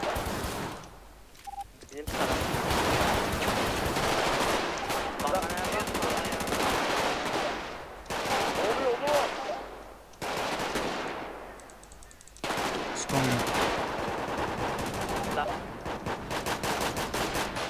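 Rapid automatic gunfire rattles through a video game shootout at an illegal house, coming in long loud bursts separated by brief pauses, with players talking over the shooting.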